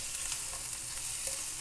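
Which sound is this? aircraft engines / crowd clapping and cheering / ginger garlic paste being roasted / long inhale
ginger garlic paste being roasted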